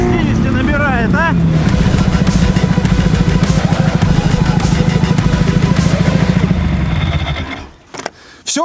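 A Ural motorcycle pulling away from a start, its engine rising in pitch and then holding a loud, rough, pulsing drone close by before easing off near the end.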